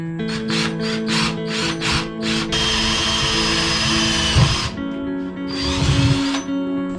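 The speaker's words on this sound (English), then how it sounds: "once I start drilling the hole, there's no going back." A power drill whirs in bursts, a string of short pulses followed by a long steady grind, with brief clunks as the bit cuts a drain hole through a converted school bus.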